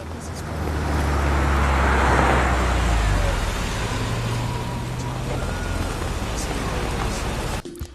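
A car being driven, its engine rumbling steadily with broadband road noise throughout, loudest early on and fading slightly toward the end.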